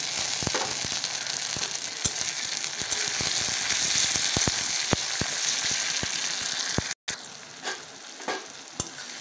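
Tomatoes hit hot oil and reddened fried onions in a pan for a rohu fish curry with eggplant, giving a steady loud sizzle with clicking spatula stirs throughout, then a brief drop before the frying resumes.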